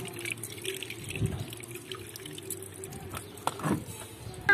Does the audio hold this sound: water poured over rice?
yes